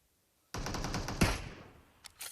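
Automatic gunfire in the mobile battle royale game PUBG Mobile: a loud, rapid burst of shots with one heavier crack in the middle, then a fading tail and two brief, quieter follow-up shots.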